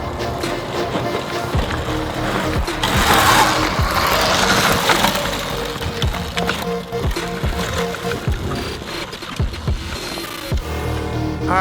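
An ERIDE PRO electric bike on Warp 9 wheels climbing a rocky hill, heard as loud, continuous rumbling and clattering over rocks with sharp knocks and scrapes, plus a burst of wind noise partway through.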